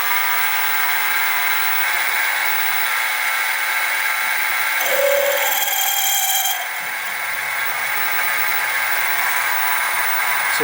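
A drill press turns a drill bit in a home metalworking workshop, its motor holding a steady hum while a harsher grinding burst of cutting rises midway for a couple of seconds and then settles back.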